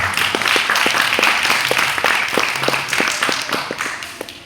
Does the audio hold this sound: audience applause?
yes